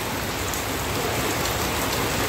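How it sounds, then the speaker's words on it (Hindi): Heavy rain pours down in a steady, dense hiss of drops striking surfaces, loud and unbroken from start to finish, with no voices. "देख सकते हो बारिश कितनी हो रही है।"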